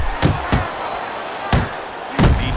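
Boxing punches land in the Apollo Creed versus Rocky Balboa superfight: four sharp, heavy thuds at uneven intervals over a steady background roar.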